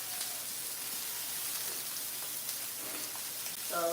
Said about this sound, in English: So that's probably a good sear there.